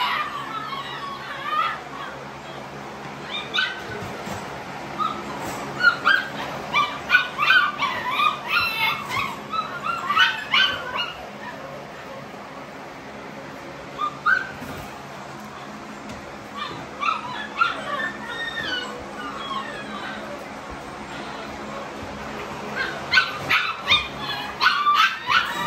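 Freshly ear-cropped XL pitbull dogs whimper, yip and bark in repeated bursts on a concrete yard, fairly close, with brief quieter gaps between outbursts.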